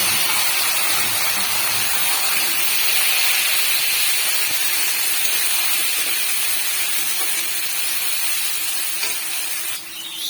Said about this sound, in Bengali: এটা হয়ে আসলে দিব পেঁয়াজটা ভাজতে দেব